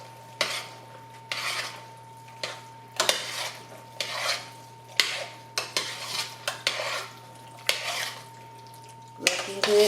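A spoon stirs chicken pot pie filling in a pot, producing rhythmic scraping strokes and light clinks about once a second over a steady low hum.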